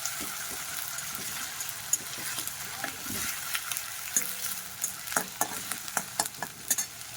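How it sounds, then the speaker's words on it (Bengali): Onions frying in oil for dahi chana, a constant bright sizzle with scraping stirs that grow more frequent toward the end, close up and without talk. "তেলে ভালো করে পেঁয়াজটাকে ভেজে নিতে হবে"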